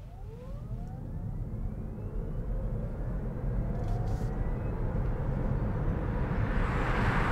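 A Kia Niro EV in sport mode pulls hard at full throttle, a rising electric whine over a loud, steady roar of road and wind noise that builds toward the end.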